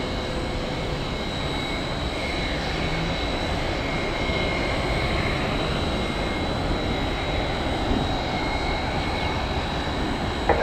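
The jet engines of an MD-11 airliner at an airport give a steady, broad roar with a faint high whine, holding level throughout without speech.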